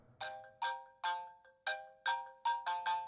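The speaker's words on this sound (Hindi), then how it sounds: "फोन लगाओ उसे फिर से।" An electronic phone ringtone repeats in evenly spaced chiming pulses that crowd closer together toward the end, with no talking.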